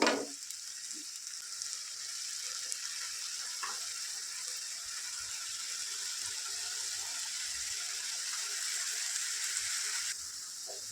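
Masala sizzles steadily in oil in a pan over a medium flame for mutton sukka, a continuous close hiss with occasional faint stirring.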